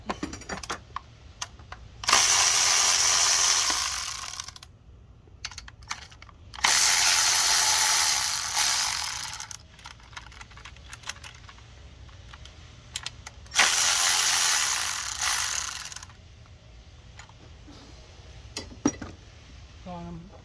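A ratchet clicks rapidly in three bursts while bolts come off a Lexus SC430 starter, with quiet gaps between the bursts and faint metallic handling sounds.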